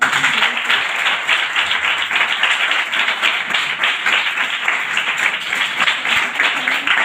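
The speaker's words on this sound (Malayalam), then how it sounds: "ഇതിന്റെ സംഘാടകർക്ക് ഒരു ബിഗ് ക്ലാപ്പ് നിങ്ങൾ കൊടുത്തിട്ടുണ്ട്" A crowd gathered at a former church turned school claps for the event's organisers, a dense, loud and sustained wash of applause from many hands, steady throughout.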